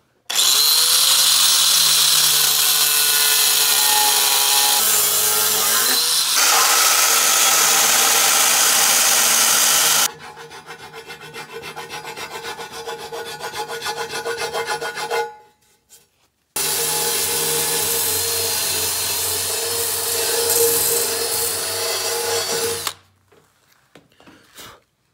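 A power tool grinds excess weld material off a cast small-block-style electric motor for a rat rod truck, running loud and continuous at close range with shifts in pitch and brief stops, and no voices are heard.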